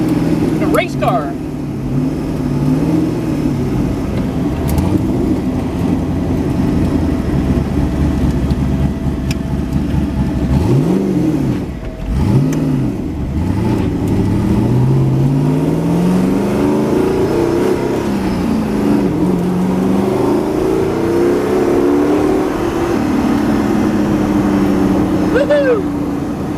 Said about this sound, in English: You can tell this thing just wants to go